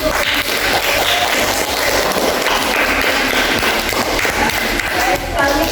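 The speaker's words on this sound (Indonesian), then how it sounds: "Kalau begitu kita kasih applause dulu" A classroom audience claps after a class presentation, a dense, steady patter of applause at close range that continues without a break.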